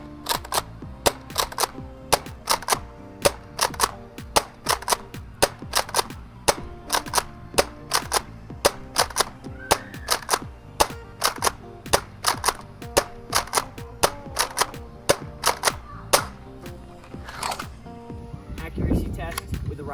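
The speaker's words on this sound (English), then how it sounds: "Firing the Rival Roundhouse, all 50 rounds, downrange." A Nerf Rival Roundhouse blaster fires 50 rounds downrange in a long series of sharp, snappy pops at a steady, rapid rhythm, loud and close, with a person's voice heard briefly.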